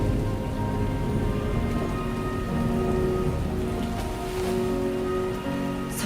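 Steady, dense rain in the game Death Stranding 2, a continuous hiss of drops pattering on surfaces, loud and close throughout with no voices.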